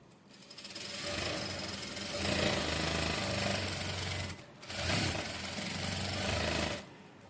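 A sewing machine stitches a double row on a blouse in two steady runs of rapid mechanical whirring, with a brief pause between them and no talking.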